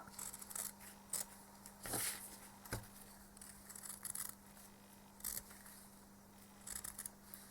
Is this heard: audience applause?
no